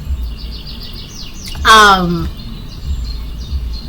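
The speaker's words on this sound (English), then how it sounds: "I don't remember the last time I've seen or heard this many birds so active" Birds chirp outdoors in a steady string of small high calls, with one louder, nearer descending call standing out midway, while a voice murmurs faintly underneath.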